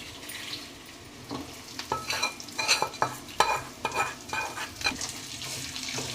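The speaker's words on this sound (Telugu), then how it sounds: "ఈ మిగతా తాలింపువి ఇందులో వేసి మిక్స్ చేయాలి" A spoon stirs a tempering with dried red chillies into grated raw mango in a pan, giving repeated scraping and clattering strokes with a light sizzle underneath, close and fairly loud.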